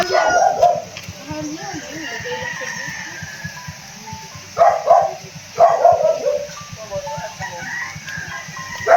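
An angry dog barks at people in a few separate bursts among other animal calls, with people talking nearby.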